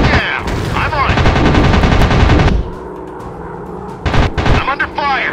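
Rapid machine-gun fire from WWII fighter planes in a dogfight video game, loud sustained bursts that cut off, then a few sharp shots and clatter after a brief lull.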